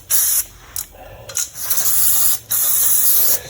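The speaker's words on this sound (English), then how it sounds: "Spray this down here a little bit." Aerosol spray can hissing cleaner onto a car being prepped for new paint, in several loud, close bursts separated by short pauses, no talking.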